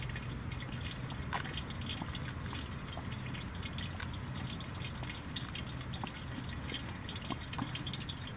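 Water drips and trickles from a small drinking fountain in a wooded spot in Sofia, with scattered soft drops over a steady faint wash of running water, quiet and alone.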